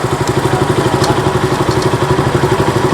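A KTM RC 200 motorcycle with a 199cc single-cylinder engine idles close by, its loud, steady, even thrum pulsing rapidly throughout without a break.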